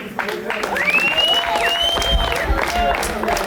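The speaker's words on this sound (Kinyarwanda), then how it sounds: "Ndagira ngo mumere amashyi cyane umugabo bita John." Crowd applause at an album launch concert, a dense steady clapping wash with rising whistle-like tones and cheering mixed in, sustained for the whole stretch.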